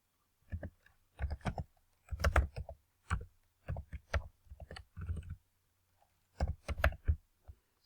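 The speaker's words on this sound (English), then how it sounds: "We'll type the name of the table underscore the column" Computer keyboard typing while entering a table and column name for a SQL foreign key constraint: several bursts of close, crisp key clicks separated by short pauses, with no talking.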